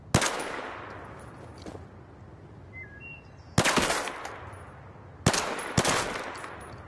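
Gunfire from the Zero Caliber 2 VR shooter on Meta Quest 3 while shooting targets: three sharp, loud bursts of shots, each trailing a long echoing decay, with brief faint game tones in between.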